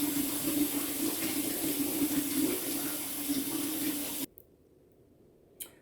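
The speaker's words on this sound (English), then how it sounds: "I'm going to go get that bowl cleaned real fast," A bowl is rinsed under a running kitchen tap, with a steady hiss of water for about four seconds. Then the tap shuts off into near silence, broken only by a faint clink near the end.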